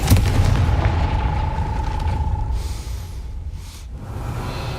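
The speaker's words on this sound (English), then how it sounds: "Confringo!" A Confringo fire spell explodes in the Hogwarts Legacy video game, a deep booming blast with a rumbling low tail that fades over several seconds.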